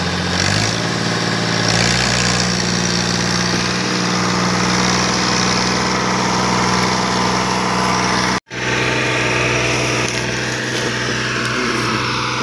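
The engine of a Fiat 480 tractor loaded with sugarcane idles loudly and steadily close by, with a constant throbbing chug, and one abrupt momentary dropout near the end.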